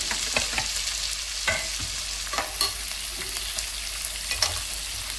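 Sliced onions, green chillies, garlic and cumin fry in a pan on low heat, a soft continuous sizzle broken by several distinct scraping and tapping stirs, close and moderately quiet with no voices.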